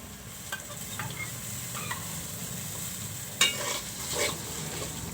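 Ginger-garlic spice mix sizzles quietly in a pan, with a soft steady frying hiss under occasional scrapes and clinks of a spatula stirring, one sharper scrape standing out.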